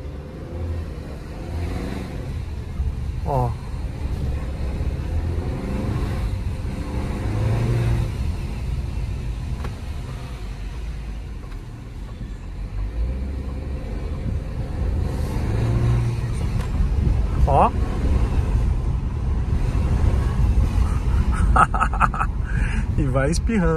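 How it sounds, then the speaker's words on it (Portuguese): Turbocharged engine of a 2024 Jeep Renegade Longitude T270 driving through town over cobblestones, a low steady rumble that rises with acceleration, heard from inside the car with someone speaking over it. "Eu sei que vocês sempre me pedem para escutar o barulho do turbo"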